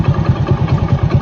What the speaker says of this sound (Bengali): তো বাইকটা যদি ইঞ্জিন সাউন্ড কন্ডিশনের কথা বলি